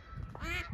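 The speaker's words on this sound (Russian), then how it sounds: "скоро моя утка зазовет всех" A single nasal duck quack, close and clear, short and alone against quiet background.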